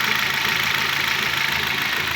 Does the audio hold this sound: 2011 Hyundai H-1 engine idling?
yes